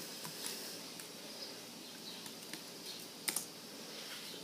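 Password being typed on a computer keyboard in a quiet room, faint scattered key taps at an uneven pace, with a brief louder double click near the end.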